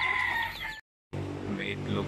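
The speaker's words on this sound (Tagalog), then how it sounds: "Ito rin manok, malagang manok" Backyard chickens kept on a rural farm, with a rooster's crow and clucking close by, broken by a brief silent gap, and a low hum beneath.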